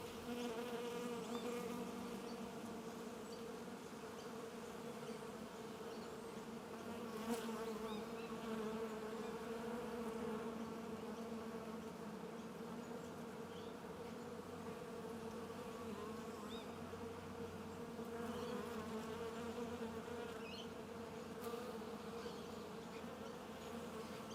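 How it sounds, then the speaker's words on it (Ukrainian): A steady, dense hum of many bees buzzing close by as they feed on clover nectar near an apiary, continuous and even throughout, with no voices. "зараз бджоли ласують його нектаром."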